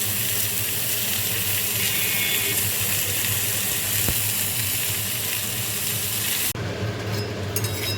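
Raw jackfruit fries in a pan with a steady, close sizzle that holds at an even loudness, then a brief clatter near the end as it is stirred.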